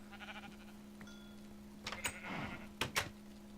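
Sheep in the Minecraft video game give two or three short, faint bleats in quick succession over a low steady background hum.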